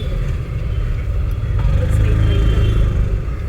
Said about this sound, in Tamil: கிளச் இந்த கால்வாசி கால் எடுக்க வண்டி முன்னால் போதான்னு பார்க்கலாம்